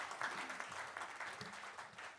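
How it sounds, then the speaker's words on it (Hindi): An audience claps to welcome a minister to the podium at a formal gathering, a brief burst of steady applause at moderate volume that tapers slightly toward the end. "ज़ोरदार तालियों के साथ प्लीज़ सभी लोग वेलकम करें सर का"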